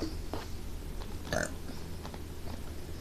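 Burping during a burping contest: a few short, rough bursts, the loudest about midway, close and fairly strong over a steady noisy background, with no talk.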